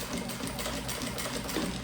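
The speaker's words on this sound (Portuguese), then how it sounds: "E costura bem bonito agora, que é costura de acabamento, tá?" A sewing machine runs steadily, stitching the finishing seam on a fabric roll-up pencil case, with a continuous close whirring hum and no talk.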